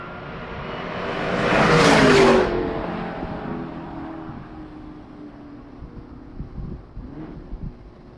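A race car sweeps past at Summit Point racetrack, its engine note swelling loud and close around two seconds, then fading into a distant, fluttering drone as it carries on through the corner.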